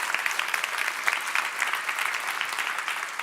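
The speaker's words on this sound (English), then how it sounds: "Round of applause, right?" A room full of people gives a steady round of applause for first responders at a fire prevention event, dense clapping sustained evenly throughout with no talk over it.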